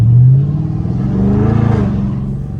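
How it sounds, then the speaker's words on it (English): A Maserati or Jaguar truck engine revs loudly and close by, a deep rumbling drone that swells and holds for a couple of seconds before easing slightly. "That's a Maserati truck sounding like that."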